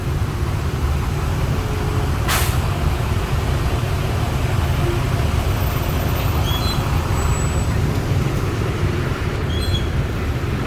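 Constant low roar of slow, congested road traffic in Vientiane during boat racing festival preparations, with engines rumbling steadily nearby, a brief sharp burst partway through and faint squeaks from vehicles further off.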